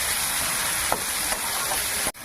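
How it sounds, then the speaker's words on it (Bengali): Bitter gourd frying in a pan for a tengra fish curry with brinjal, sizzling steadily up close with a couple of faint stirring scrapes and a brief break near the end. "উচ্ছেটা একটু ভাজা ভাজা হয়ে গেছে"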